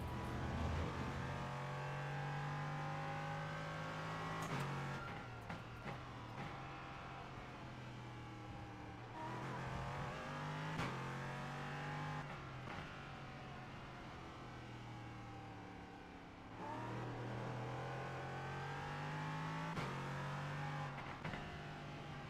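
Race car engine in Assetto Corsa Competizione at the Hungaroring, a loud continuous drone that rises and falls with repeated revving and gear shifts through corners, heard alone without talk.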